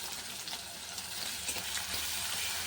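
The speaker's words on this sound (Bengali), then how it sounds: "দেখো উচ্ছেটাকে ভেজে নেবো একটু হালকা, একটু হলুদ আর একটু লবণ দিয়ে দিলাম।" Bitter gourd fries in oil in a wok with turmeric and salt, a continuous soft sizzle and crackle that stays quiet and steady, with no talking.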